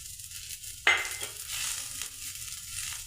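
Grated coconut roasting in a pan for a paneer dish: one sharp scrape of a stirring spoon, then a soft crackling sizzle with a few lighter stirs, close and quiet, no voices.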